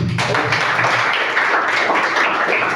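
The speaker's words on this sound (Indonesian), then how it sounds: "tepuk tangan buat Zahid" An audience in a school training session applauds for Zahid with steady, dense clapping that fills the whole moment at a moderate distance, with no talk over it.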